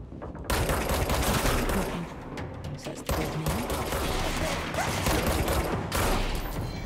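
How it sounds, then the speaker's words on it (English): Dense, continuous gunfire from the video game Control, rapid overlapping shots and bursts crackling throughout at close range, loud and unbroken with brief dips. "Who's shooting?"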